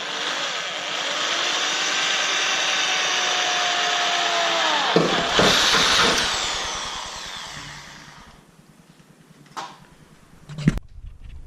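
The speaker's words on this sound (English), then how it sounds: "So time for the drill, and this is the nervous part." A loud power drill whines steadily for several seconds while drilling pilot holes for bonnet pins on a Toyota GT86, then stops, followed by a few sharp clicks and knocks.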